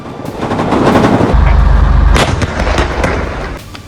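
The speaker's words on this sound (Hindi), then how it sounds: "एक इमारत के अंदर सर्च ऑपरेशन के दौरान इजरायली जवानों और हमास लड़ाकों के बीच आमने सामने की फायरिंग हुई है।" Loud, close gunfire inside a building during an exchange of fire between soldiers and fighters, with rapid bursts and sharp cracks echoing off walls, the shots booming at full volume.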